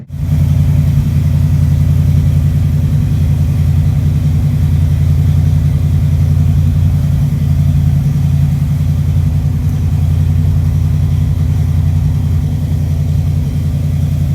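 A 1973 Dodge Dart idles with a loud, deep single-chamber muffler rumble, a steady low throbbing drone that holds constant for the whole stretch with no talking.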